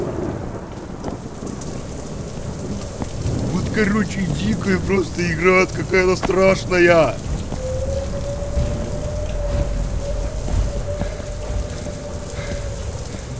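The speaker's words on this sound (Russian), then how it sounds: "этот дождь просто, он вообще мешает сильно" Steady rain hisses with low rumbles of thunder in the video game The Joy of Creation: Reborn, while someone speaks over it in Russian for a few seconds.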